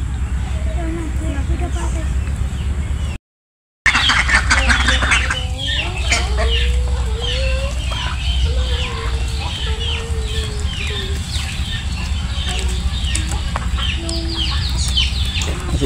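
Chickens cluck and call repeatedly at close range, with short bursts and a brief wing flap, while a person talks over them; the sound drops out briefly near the start.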